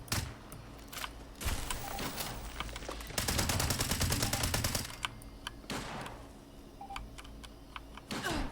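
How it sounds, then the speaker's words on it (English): Rapid gunfire in Fallout 76, a blind shot fired with the gun lifted overhead: scattered sharp reports, then a dense automatic burst of evenly spaced shots lasting about two seconds, followed by more sporadic cracks, loud and close. "She just like lifted the gun over her head and just shot blind"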